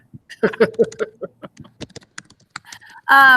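Quick, irregular clicks of a computer keyboard while typing a digital sticky note, close and crisp, with a voice starting just at the end.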